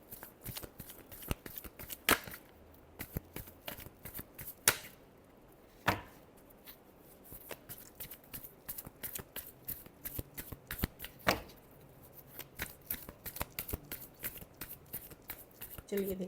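Tarot cards are shuffled by hand nearby in a long run of crisp riffling and slapping bursts in an uneven rhythm, with a quiet voice heard now and then.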